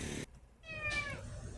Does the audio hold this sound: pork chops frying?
no